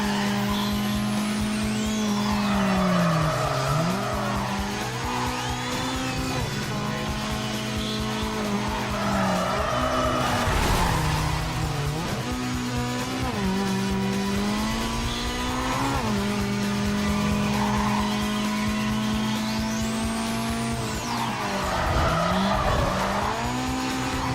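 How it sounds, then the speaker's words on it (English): In the racing game Need for Speed Carbon Redux, a car engine revs and wails through gear changes while tires squeal in repeated drifts, loud and continuous throughout. "They made it to where we literally can drift, man."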